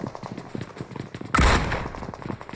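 Gunfire in the mobile battle royale game PUBG Mobile: a sudden loud burst of shots, then sustained rattling noise, with quieter clattery background sounds before it.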